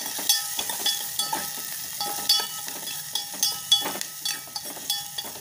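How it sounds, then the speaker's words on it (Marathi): Sliced onion frying in a pan after roasted chillies for a fresh coconut vegetable dish, with a steady sizzle broken by repeated scraping stirs in an uneven rhythm, close and moderately loud, no talking. "मिरच्या भाजल्या, आता कांदा घालूया. कांदा चांगला परतून घ्यायचा आहे."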